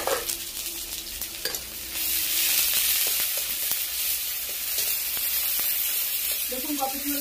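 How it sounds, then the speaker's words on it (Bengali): Chopped onion drops into hot oil in a pan, setting off a loud, sustained sizzle after a brief quieter start, with occasional light taps of a stirring utensil against the pan. "তেলটা হিট হয়ে গেছে। আমি একটু পেঁয়াজ দিয়ে দিচ্ছি, পেঁয়াজ কুচি দিয়ে দিচ্ছি।"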